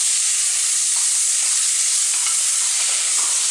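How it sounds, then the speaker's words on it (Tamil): Ginger garlic paste sautéing in a hot pan for goat rib bone soup, a steady dense sizzle with faint stirring scrapes, close and continuous with no talking. "பச்சை வாசம் போகிற வரைக்கும் நல்லா வதக்கிக்குவோம்."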